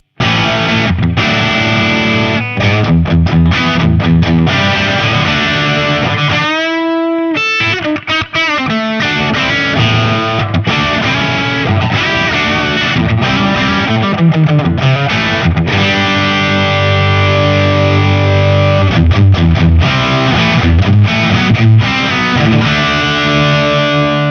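Les Paul electric guitar through a Tech 21 Hot-Rod Plexi overdrive pedal, distorted chords and riffs played loud and continuously with a brief gap of sustained ringing midway.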